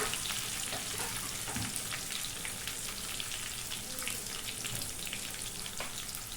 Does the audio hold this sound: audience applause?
no